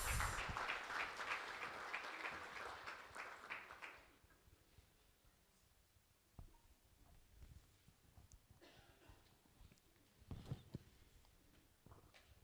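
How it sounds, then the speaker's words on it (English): An audience at a World Population Day commemoration applauds as guests walk to the front; clapping is loud for about four seconds, then drops to scattered faint claps, shuffling and murmurs in a quieter hall. "can we also give them a big round of applause as they make their way to the front?"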